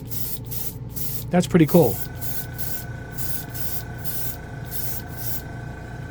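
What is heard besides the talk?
airbrush spraying Gaia Prism Blue Black paint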